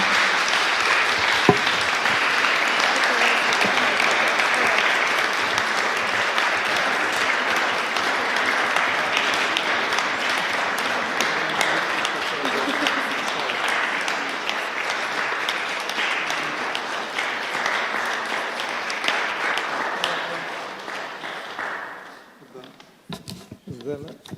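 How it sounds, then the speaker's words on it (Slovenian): A large audience applauds guests at a Brain Week event in a hall, steady dense clapping sustained for about twenty seconds before tapering off, with a few scattered claps and faint voices at the end. "en velik aplavz, prosim, za naše goste"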